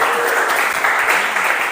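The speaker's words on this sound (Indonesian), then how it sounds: "tepuk tangan untuk Mas Ramadika" Classroom applause for a student, a dense steady clatter of many hands clapping together, loud and close, filling the whole short moment without speech.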